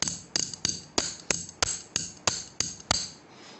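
A metal wrench standing in for a hammer strikes a hard object eleven times in a steady, evenly spaced rhythm. Each blow is a sharp, close, ringing clank, and nothing else can be heard between them.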